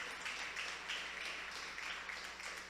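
A church congregation applauds in praise, a sustained, fairly soft wash of many hands clapping, with rhythmic pulses running through it and no speech over it.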